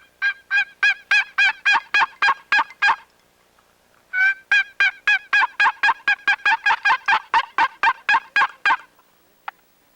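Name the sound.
hunter's call imitating a hen turkey yelp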